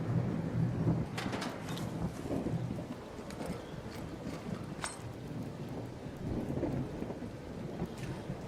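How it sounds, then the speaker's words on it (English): A thunderstorm in the ARC Raiders video game, with steady heavy rain and rolling thunder rumbling continuously. A few sharper crackles cut through the downpour, and no one speaks. "lightning's still trying to strike me, like, even though I'm inside."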